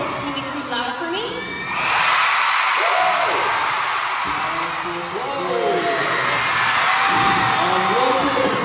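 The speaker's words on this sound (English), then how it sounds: "Can you guys scream loud for me?" A large concert crowd at a show in Washington DC screams and cheers loudly and continuously, with high-pitched shrieks and whoops rising over a dense roar of voices.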